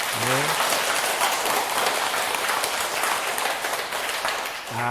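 A lecture audience at a Buddhist talk claps in a steady, dense patter, with a voice speaking briefly at the start and again at the close.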